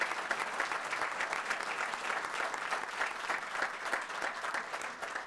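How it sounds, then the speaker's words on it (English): Sustained applause from an audience at a township council meeting honoring the Washington Township Police Department, steady clapping throughout with no talking over it. "how about another round of applause for the Washington Township Police Department"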